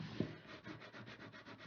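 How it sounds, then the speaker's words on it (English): A bone folder burnishing paper down on a Christmas gift card tag, heard as a soft steady rubbing with rhythmic strokes close by, opening with a brief tap. "I'm just going to burnish this down with my bone folder"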